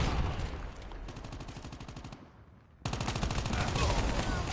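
Rapid automatic gunfire in Call of Duty Mobile multiplayer, loud and continuous with a fast steady rhythm, breaking off briefly before a second sustained burst.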